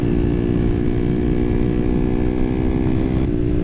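A 2011 KTM Duke 125 with an IXIL Hyperlow exhaust runs at a steady, loud engine drone, its tone holding level before shifting slightly near the end, with no talk.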